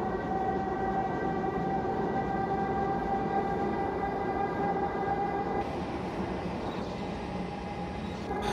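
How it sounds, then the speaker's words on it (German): A historic Berlin S-Bahn electric railcar in a train simulator game runs with a constant rumble and a steady motor whine, a sustained rolling drone that shifts slightly in tone partway through. "Schöner Triebwagen."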